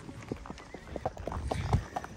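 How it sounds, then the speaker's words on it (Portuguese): A horse ridden along a road in the late afternoon, its hooves clip-clopping in a steady walking rhythm, close and fairly loud. "Tô aqui montando a cavalo na estrada."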